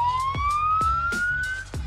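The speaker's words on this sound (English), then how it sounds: "That is an interesting siren sound, honestly." A police interceptor siren in BeamNG.drive wails with a steady rising tone, loud and close, punctuated by several sharp percussive thumps from the game.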